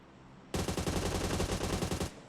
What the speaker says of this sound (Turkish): Lan bir yerden biri bana sıkıyor ama nereden sıkıyor?